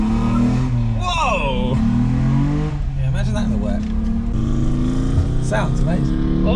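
A Bentley Turbo R engine drones loudly and steadily under acceleration on a classic car road trip, with pitch sweeps as it revs. Excited voices talk over the engine noise.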